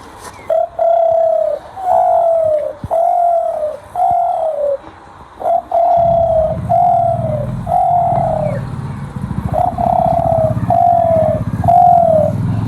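A man whistles an imitation of a spotted dove's call: about ten soft, drawn-out coos in a steady rhythm, close and clear. A low rumble joins partway through.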